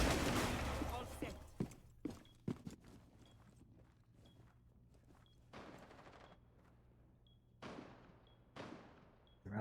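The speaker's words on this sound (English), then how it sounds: "we're already hearing gunshots left and right" Gunfire in a Rainbow Six Siege match erupts in sharp bursts, several quick shots early on and then scattered echoing volleys and rattles, loud and near, with footsteps and game sounds in between.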